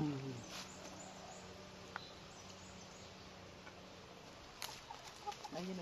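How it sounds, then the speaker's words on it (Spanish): Hens cluck softly in the background over a steady outdoor hiss, with a few brief louder squawks near the end. "Ahí viene otra gallina, ¿ves?"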